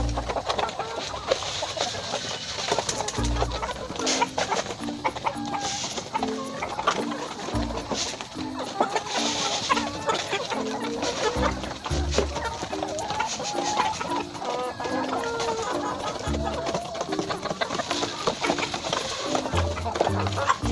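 Free-range chickens cluck and call repeatedly around a backyard feeding area, with a steady, busy rhythm of near and mid-distance clucks over faint background noise throughout.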